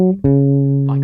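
Bass guitar plays the offbeat notes of the soli: a short sustained note, then a fresh attack into another steady, ringing note, clear and alone.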